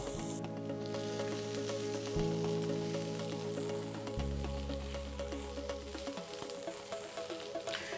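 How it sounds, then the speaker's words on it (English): Sliced onion with garlic cloves and roughly chopped ginger fries in a pan for a lamb curry, giving a continuous, even sizzle that runs unbroken for the whole stretch under a steady tonal background. "now I'm going to add cloves of garlic and roughly chopped ginger"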